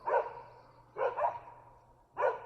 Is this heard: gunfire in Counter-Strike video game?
no